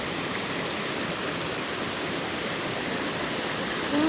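After heavy rain, water rushes along a damaged road like a stream, a steady, broadband roar of flowing water with no pauses, close and fairly loud.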